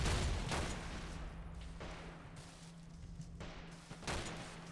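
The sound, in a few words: STG-44 rifle gunfire in the video game Call to Arms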